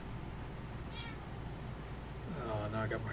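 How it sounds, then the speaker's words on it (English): A house cat cries with plaintive meows in the background of an indoor room, one faint meow early on, then louder, drawn-out meowing near the end over a constant low hum. "Now I got my cat crying in the background too."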